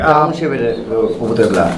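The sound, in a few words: pigeons cooing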